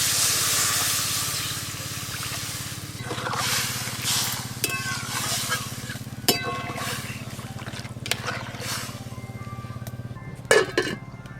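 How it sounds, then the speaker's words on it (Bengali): Hog plums simmer with turmeric and salt in a pot of water, giving a steady low bubbling hiss with a few sharp utensil clinks and knocks near the end. "এবার জল দিয়ে ভালো করে সেদ্ধ করে নেব।"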